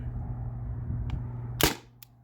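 A modded T4E HDR50 revolver fires a single aluminum ball: one sharp, close pop over a low steady hum, followed by a faint click.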